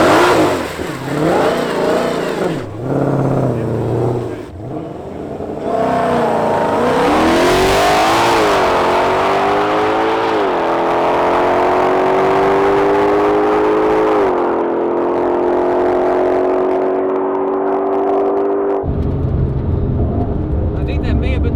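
A 2020 Ford Mustang GT500 launches hard down a drag strip, its engine note climbing through several loud gear-by-gear revving sweeps over about fifteen seconds before cutting off, with cabin rumble and people talking at times.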